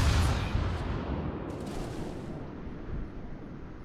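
Naval gunfire aimed at the Bismarck in a warship video game, a heavy cannon boom at the start that decays into a long, low rumbling roar, with a fainter second report partway through.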